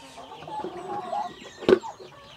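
Cage-free chickens cluck on a farm in Cebu, a chatter of soft clucks with one louder squawk near the end, heard up close with no talking.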